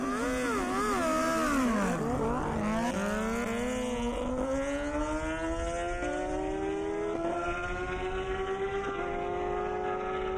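Two motorcycles, a Honda and a Ninja, race down an airstrip, their engines screaming loud and close, climbing steadily in pitch through the gears after a brief dip.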